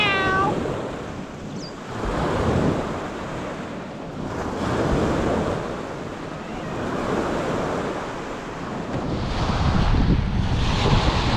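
A black cat with a white collar meows in a short rising call near the start, over the steady roar of sea surf and gusting wind noise on a windy, wavy shore during a fishing trip.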